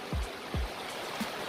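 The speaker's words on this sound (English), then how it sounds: "I'm in the middle of a creek" Creek water flowing around someone standing midstream while rockhounding, a constant close rushing burble with two low sloshing thumps near the start.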